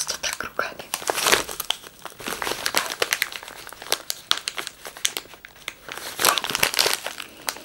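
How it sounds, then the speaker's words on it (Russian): Sealed plastic tea packet handled up close, with loud crisp crinkling in rapid irregular bursts throughout and a brief voice near the start. "Этот пакетик запаян по всем местам. Его не вскрыть просто так руками."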